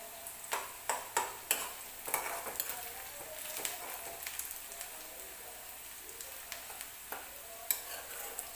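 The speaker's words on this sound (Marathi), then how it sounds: "थोडं हलवत राहायचं आपल्याला।" Onion frying in a pan for a chicken recipe, a continuous close sizzle punctuated by sharp spoon taps and scraping as it is stirred.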